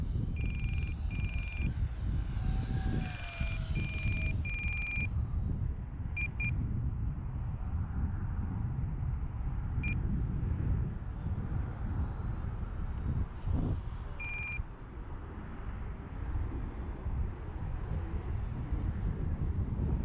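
An E-flite A-10 twin 64mm RC jet sweeps low down a runway, its sustained roaring rush and thin whine holding loud and steady throughout, with no talk.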